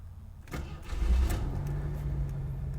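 A warm AMC Eagle engine cranks briefly and fires up, settling into a steady, close, low rumbling idle.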